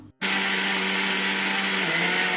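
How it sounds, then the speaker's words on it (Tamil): An electric grinder kicks on abruptly and runs steadily and loudly, whirring as it grinds grated coconut for a chutney, a high motor whine holding throughout with a slight dip in pitch near the end. "தேங்காய் பூவை போட்டு அரைச்செடுக்கணும்"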